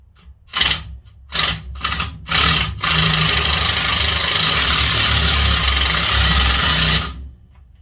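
Harley-Davidson Sportster engine cranking on a weak battery: four short sluggish starter bursts, then a loud sustained churning crank lasting about four seconds before cutting off, close and with no talk.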